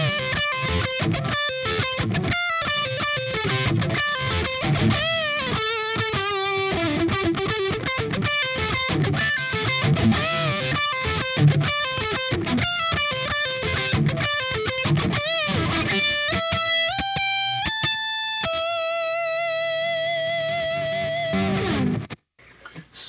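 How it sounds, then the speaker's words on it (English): A heavily distorted electric guitar lead tone played on the bridge pickup through a Line 6 POD HD500x amp model, with fast compressed runs and bends that settle into long sustained held notes before cutting off. "It ups the ante and gives us some real fiery lead tones."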